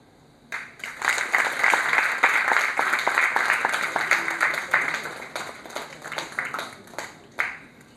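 A seminar audience at an event on yarn trends breaks into applause, dense rapid clapping that swells quickly, holds for several seconds and thins out into a few scattered claps.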